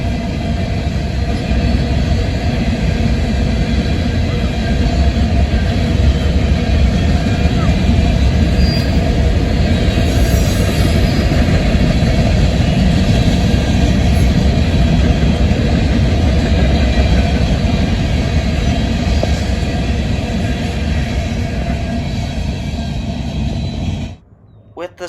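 A Norfolk Southern freight train hauling coal hoppers rolls past, a loud continuous rumble and clatter of wheels on rail lasting over twenty seconds before cutting off abruptly, with narration over it.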